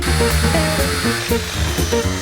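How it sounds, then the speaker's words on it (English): A power drill whines loudly and continuously, its pitch shifting in steps as it bores into foam. "I do enjoy drilling this stuff."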